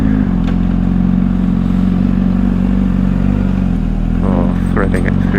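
A Honda CBR600RR sport bike ridden on the road, its engine droning steadily and loudly throughout with a brief rise in revs near the end, heavy wind noise over it and a rider's voice talking along.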